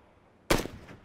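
A single sharp gunshot bursts out in the PUBG video game after near-silence, loud and close, then decays with a short trailing echo.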